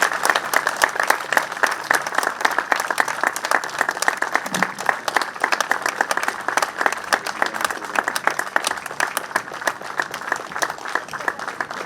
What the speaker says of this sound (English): let's have another round of applause for Monica